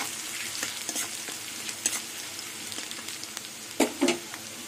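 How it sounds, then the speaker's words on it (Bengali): Garlic paste fries with onions in a pan, giving a steady close sizzle with soft stirring scrapes and a couple of louder clatters near the end. "পেঁয়াজের সাথে রসুনটা একটু ভেজে নেব"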